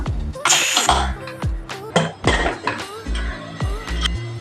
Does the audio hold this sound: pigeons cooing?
no